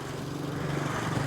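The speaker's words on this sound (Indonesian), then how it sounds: "Dan ini suara mesinnya" A Toyota Vios 1500cc four-cylinder VVTi engine runs at a steady idle with an even, low hum and a soft mechanical whir. It sounds close and unchanging, with no speech.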